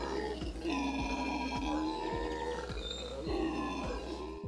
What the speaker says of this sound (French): vous aurez peut-être la chance, ou la malchance, d'entendre un groupe de singes hurleurs